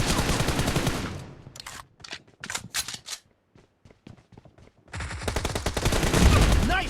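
Gunfire in the BGMI mobile shooter during a team deathmatch, with loud rapid automatic bursts opening and closing the stretch and sparser single shots and short volleys in between.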